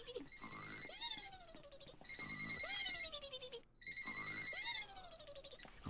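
A telephone rings in the Roblox game, with repeated warbling electronic ring bursts, loud and steady throughout, plus a brief gap near the end.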